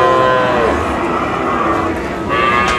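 A Sahiwal bull moos at a busy rural cattle market in Panchagarh, a long drawn-out call rising over crowd chatter and market noise, with people talking nearby throughout.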